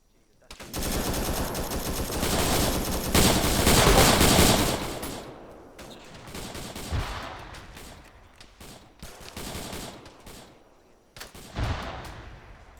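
Heavy automatic gunfire from the video game Task Force Athena, sustained loud bursts and volleys for several seconds, then sporadic shots and further bursts, with a voice talking over the fight.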